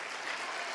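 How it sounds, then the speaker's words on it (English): Church congregation applauding, a dense, even wash of clapping that sounds moderately distant and fairly quiet in a brief burst. "keep clapping, and let's confer all the honor to him"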